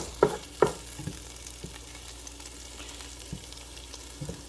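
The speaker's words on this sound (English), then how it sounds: "Let that melt a little bit. Stirring these onions up some." Onions frying in melting unsalted butter hiss softly and steadily, punctuated by a few sharp knocks and scrapes as they are stirred, louder early on.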